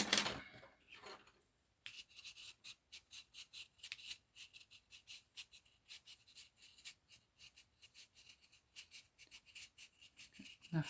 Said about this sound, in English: This is a watercolour pencil.